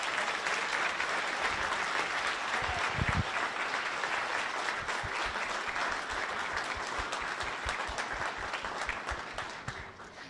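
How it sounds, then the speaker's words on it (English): Sustained audience applause greets a competing team entering the room at a business case competition, dense steady clapping that fills the space throughout and fades slightly at the end. "give them a big applause"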